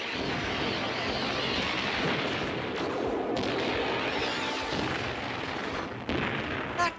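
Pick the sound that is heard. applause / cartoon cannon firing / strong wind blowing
cartoon cannon firing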